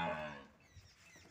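A buffalo lows once at a dairy farm, a deep drawn-out moo that fades into quiet barn background, close and moderately loud with no talk.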